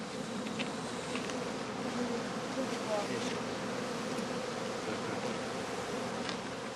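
Honey bees swarm and buzz around a straw skep hive at an apiary in autumn, a steady dense drone holding throughout at moderate loudness.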